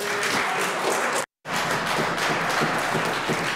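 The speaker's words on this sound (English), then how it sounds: "Hold your applause for just a few seconds longer." Members of a legislature applaud during question period, a dense, continuous wash of clapping that fills the chamber, briefly cut off for a split second before resuming at the same loud level.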